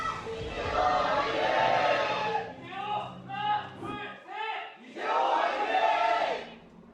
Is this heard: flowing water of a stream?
no